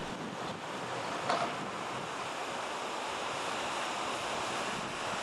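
Steady broadband rush of river water pouring over Sanderson's Weir in Sheffield, a continuous roar with wind buffeting the microphone and no voices.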